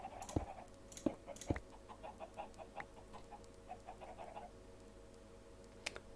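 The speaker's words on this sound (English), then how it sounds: "we have plenty of chickens" Chickens in the game Minecraft cluck softly in scattered short bursts, with a few louder sharp clicks and thumps, fairly quiet and without talk.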